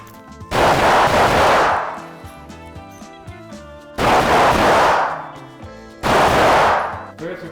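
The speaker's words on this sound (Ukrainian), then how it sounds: "Зараз будемо бігати по цій кімнаті і стріляти по мішеням" Three loud, close bursts of handgun fire at shooting targets in an indoor range ring out a couple of seconds apart, each a sharp crack followed by a ringing decay in an enclosed space.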